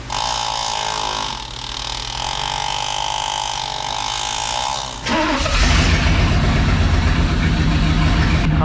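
A barn-find Camaro IROC-Z that has sat since the 90s idles roughly and loudly, then its engine swells and roughens midway as more cylinders catch and it runs harder, with talk heard over it.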